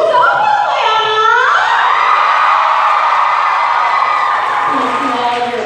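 A convention panel audience cheering and whooping loudly at ATLCON 2016, a sustained crowd roar with high shouts and yells that holds steady throughout at close range.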